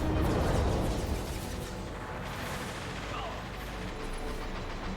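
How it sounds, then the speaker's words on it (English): Gunfire and explosions roar in a Mass Effect 2 combat firefight, a dense continuous barrage of shots and blasts that stays loud throughout and is heaviest at the start. "Taking heavy fire."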